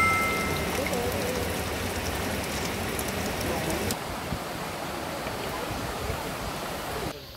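Mountain valley stream on Jirisan's Baemsagol trail flowing steadily as a broad, even rush of water, close and continuous for the whole stretch with no pauses, slightly softer in the second half.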